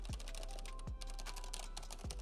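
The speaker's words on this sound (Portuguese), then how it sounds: "É um teclado mecânico branco, coisa mais linda, tá? Coisa mais linda mesmo. Olha o barulhinho que gostoso, ó." A white mechanical keyboard is typed on in quick, close, crisp clicks, a steady patter of keystrokes over a low electrical hum with a few faint sweeping tones.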